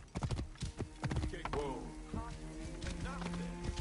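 A horse's hooves clip-clopping in rhythm in the Assassin's Creed Origins video game, steady and close, with a voice talking over the footsteps.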